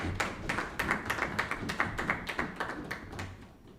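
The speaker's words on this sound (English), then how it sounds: "I think we need to give them a round of applause." Members at a 2022 parliamentary budget presentation applaud with a steady run of rhythmic knocks, about four a second, fairly quiet and alone before fading out.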